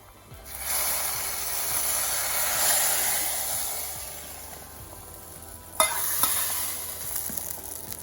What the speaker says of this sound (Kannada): ಇದಕ್ಕೆ ಒಗ್ಗರಣೆ ಹಾಕ್ತಾ ಇದ್ದೀನಿ.